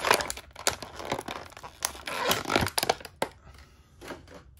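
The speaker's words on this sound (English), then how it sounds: "let's try to pop them out of this plastic bubble." Close-up crinkling and crackling of a plastic blister pack as an AEW Unrivaled Orange Cassidy action figure is pushed out, a dense flurry of sharp crunches and snaps followed by quieter, sparser rustles.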